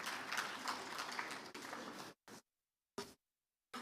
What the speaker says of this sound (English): Can we please have a round of applause for Dr.